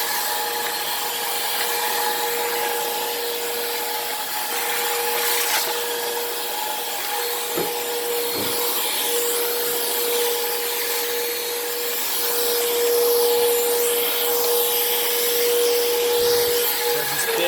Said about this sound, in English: Really strong airflow for a cordless vacuum.